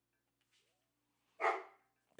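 A single loud bark from a dog rings out close by after near silence, preceded by a faint yip and followed by quiet.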